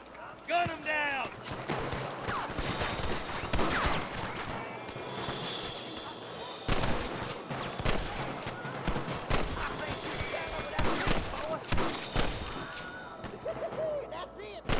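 Gunfire from a Red Dead Redemption 2 shootout, with repeated loud sharp shots in irregular bursts throughout alongside intermittent game character voices.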